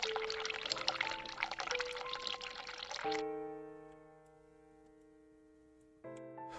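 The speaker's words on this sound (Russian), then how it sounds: "А для чего воду мы включаем?" Tap water runs in a hissing, steady stream for about three seconds in the game The Cat Lady, then cuts off, leaving soft sustained musical tones ringing underneath.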